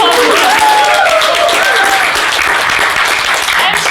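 Dense, steady audience applause fills a room at an evening career presentation, welcoming a senior lawyer; many hands clap continuously at close range with a few voices faintly mixed in.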